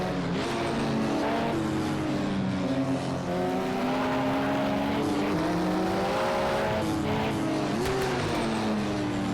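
Racing car engines from Project Cars 2 at a Catalunya race whine steadily throughout, their pitch climbing and dipping as the revs shift, with a continuous, fairly loud drone and no talking.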